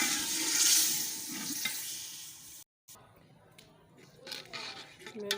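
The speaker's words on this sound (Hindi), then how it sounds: "अब 2 किलो में पानी ऐड कर रही हूँ।" Water pours loudly into a pot of rice, potatoes and spices for pulao, a rushing splash that cuts off abruptly, followed by quieter stirring and kitchen clinks while someone talks.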